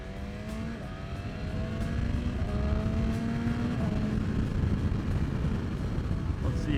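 A BMW S1000RR motorcycle rides out with its engine whining up through the gears, each shift marked by a short dip in pitch before it climbs again, over steady wind rush close by.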